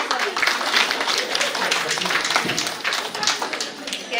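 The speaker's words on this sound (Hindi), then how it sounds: "ताली बजाएं सभी।" Audience clapping at a Shivshakti spiritual gathering in Biratnagar, Nepal, a dense, steady wash of many hands applauding together throughout, with voices mixed in.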